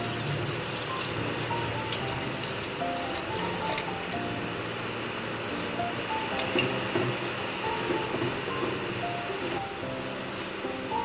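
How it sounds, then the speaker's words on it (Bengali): Water pours steadily into a pan of potato curry, a continuous splashing trickle and gurgle held close and fairly loud, with no talking. "জল দিয়ে দিচ্ছি।"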